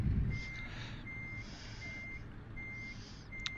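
Truck reversing alarm in Euro Truck Simulator, a series of evenly spaced high beeps repeating steadily over a low engine rumble, with a short click near the end.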